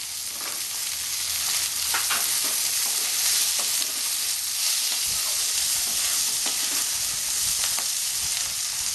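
Beans hit a hot pan for Bengali sukto cooked with fish roe and fry with a loud, continuous sizzle. Intermittent stirring scrapes sound close throughout, and no one speaks.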